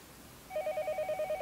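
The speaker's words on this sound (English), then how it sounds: "Just when I thought that, the phone rang." A telephone rings in the Higurashi visual novel, a rapid electronic warble in evenly spaced pulses that starts partway in and plays clearly on its own.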